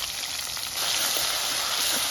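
Spice pastes of garlic, ginger, onion and cumin, with cardamom, cinnamon and cloves, fry in oil in a karahi with a steady loud hiss and crackle that rises slightly partway through, with no talking.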